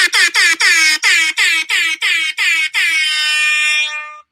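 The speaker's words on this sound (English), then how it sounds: "with the air horn" A loud air horn blasts in a rapid rhythm of about ten short honks, then ends in one longer sustained blast that fades out.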